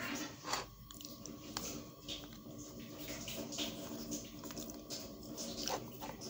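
Someone chews canned red kidney beans close to the mic, giving soft wet mouth sounds and irregular squelchy bites over several seconds, fairly faint, with no talking.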